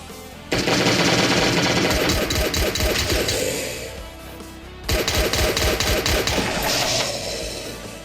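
Loud, rapid automatic gunfire in the video game Last Day on Earth comes in two long sustained bursts separated by a brief lull.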